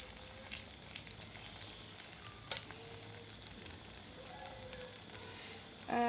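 A Spanish omelette mixture of eggs fries in a pan with a steady, quiet sizzle, a few light clinks of a utensil spreading it, and a louder burst of sizzling at the end.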